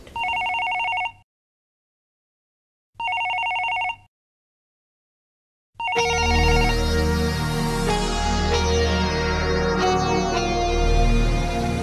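A phone ringtone sounds in two short, identical electronic rings separated by silence, then a dense, louder melodic tone follows without pause.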